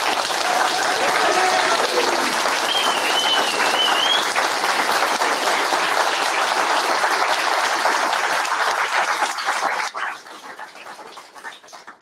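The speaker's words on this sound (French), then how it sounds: "je crois qu'on peut applaudir." Sustained, loud applause from a large audience at a corporate event, dense and continuous for about ten seconds before thinning out, with a faint whistle near the start.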